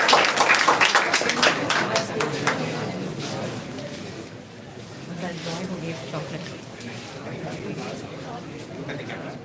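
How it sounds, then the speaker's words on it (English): Audience clapping at a school AI expo run by ninth and eleventh grade students. A burst of claps in the first few seconds rises over loud crowd chatter, then fades into continuing talk. "Clap, clap."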